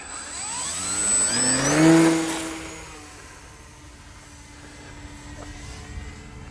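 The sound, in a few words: RC jet plane engine running before takeoff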